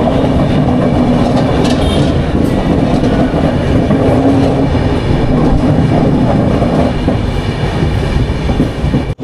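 Steady loud rumble and rattle of the Darjeeling Mail heard from inside a 3rd AC coach, a continuous roar of wheels and carriage noise with faint clatter and no talking.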